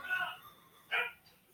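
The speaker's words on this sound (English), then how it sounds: "Sorry about the dogs, can't control them." Two short bursts of dog barking indoors, moderately loud, separated by a pause, with a faint voice in the background.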